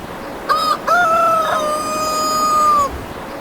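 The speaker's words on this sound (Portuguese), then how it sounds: "Como todo bom galo, se destaca pela cantoria e bem cedinho." A rooster on a quiet island on the Atlantic coast crows once, loud and close, with a short opening note and then a long, steady, drawn-out call that fades at the end. No one speaks.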